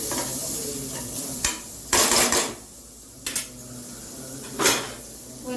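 Finely chopped tomatoes are stirred into hot oil in a pan for a spicy roadside salna, with several loud scraping clatters of a spoon against metal over a low sizzle, and no talk.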